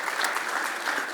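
Audience applause at a football confederation assembly, a dense steady wash of many hands clapping together, loud and continuous throughout without any voices.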